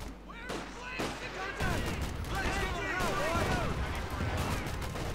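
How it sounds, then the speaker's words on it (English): Anti-tank gun fire, light machine gun bursts and light artillery fire from an M8A1 in the Company of Heroes 2 video game, a busy mix of sharp cracks and rattling volleys overlapping in a fairly quiet battle scene. "Anti-tank gun fire, light machine gun fire, and of course light artillery fire here from the M8A1."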